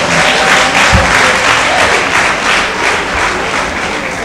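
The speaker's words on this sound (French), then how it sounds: "Applaudissez!" Wedding guests applauding at a civil ceremony in a town hall, loud and close, dense continuous clapping that fills the whole moment with no voices over it.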